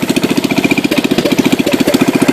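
A Kohler K301 engine with fresh points sits in a John Deere 210 and runs with no muffler, making a loud, close, rapid, even chugging putter with no voices over it.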